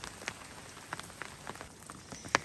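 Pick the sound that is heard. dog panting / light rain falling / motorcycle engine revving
light rain falling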